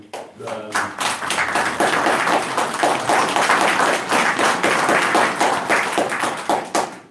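A round of applause at a Telford open day, dense clapping from a gathered crowd starting abruptly and holding steady and loud before tailing off at the end.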